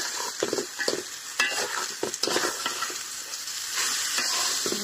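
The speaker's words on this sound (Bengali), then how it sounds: "আমরা ভালো করে চালটা ভেজে নিব।" Rice sizzles and crackles in a pan while a utensil scrapes and stirs in uneven bursts, close and steady with no voices.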